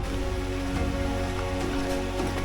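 Monsoon rain falls steadily in a forest, a dense even hiss of drops on leaves and ground, continuous and fairly close with no voices.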